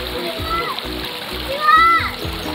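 Children splash and play in a cool valley stream on Cheonmasan mountain, with steady rushing water throughout and children's voices calling over it.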